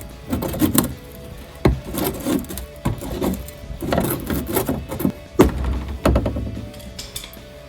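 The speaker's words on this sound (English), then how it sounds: "I'm just going to use a flathead and pop this Christmas tree clip out of here to get this flap open." Flathead screwdriver prying a plastic Christmas tree clip out of a fender flap on a 2009-2018 RAM 1500 pickup, with repeated close scraping, rubbing and sharp knocking clicks at an uneven rhythm.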